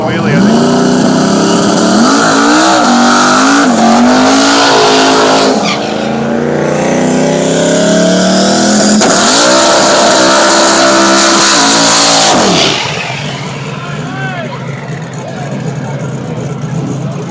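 Drag race cars launch at KD Dragway, engines roaring and rising in pitch through the gears for several seconds, loud and close, then fading as they pull away, while a commentator talks over the noise.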